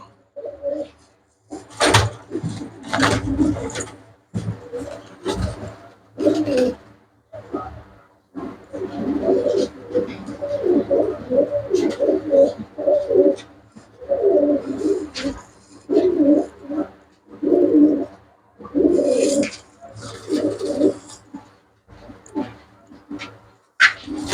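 Pure-bred thalla pigeons from a seller's flock coo steadily in rolling, overlapping bursts for a long stretch, close and fairly loud, with brief speech and a few sharp clatters between.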